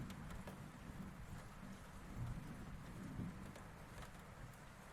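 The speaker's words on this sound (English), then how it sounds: "You're afraid of the storm?" Steady rain with low rumbling thunder through a storm, a continuous wash of rainfall and deep rolling booms swelling briefly, no voices.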